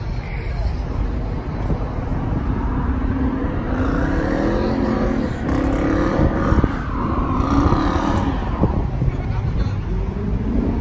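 At a Mopar car meet, engines rumble and rev while cars launch nearby, the roar swelling and fading across the scene under crowd chatter and voices.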